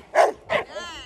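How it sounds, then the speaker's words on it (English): A high-drive police K9, a young 14-month-old dog, gives two sharp close yips or barks followed by a brief whining whimper, loud and near. "Incredible dog."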